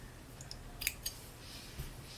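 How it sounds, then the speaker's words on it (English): Scissors snip through pink crochet yarn in a few quiet, sharp clicks close by, set against a faint background hiss. "So let me cut the pink."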